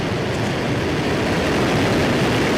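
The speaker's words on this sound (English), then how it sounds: "Liftoff." A SpaceX rocket lifts off with a dense, continuous roar that fills the whole short stretch at high loudness without pause.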